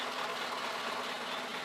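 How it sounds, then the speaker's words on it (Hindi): An Isuzu FVR 90 heavy truck engine idles in a steady, even drone with a faint low hum, heard close and alone with no voices. "और इंजन की साउंड आप देखें"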